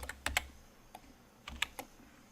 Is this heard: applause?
no